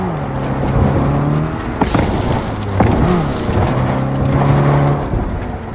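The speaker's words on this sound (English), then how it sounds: "We need to hide the car." A car drives in Cyberpunk 2077, its steady engine drone loud and close, broken by a few heavy thumps and a brief swell as it moves over rough ground.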